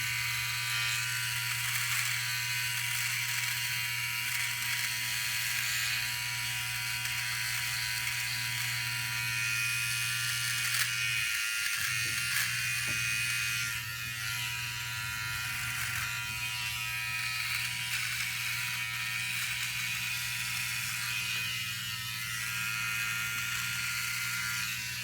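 A OneBlade electric trimmer buzzes steadily and close up while trimming a goatee, a constant motor hum with one brief dip in the middle as the blade moves across the beard.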